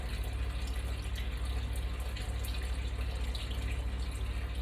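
Water poured into a mixing bowl while making tea cakes, a steady close rushing trickle that runs continuously without a break.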